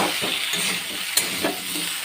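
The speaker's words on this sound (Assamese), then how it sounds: "চয়াবিন আৰু আলুখিনি মিক্স কৰি ভাজি আছোঁ" Soybean chunks and potatoes frying together in a pan of oil with onion, green chilli, turmeric and salt, giving a steady close sizzle with faint stirring scrapes throughout.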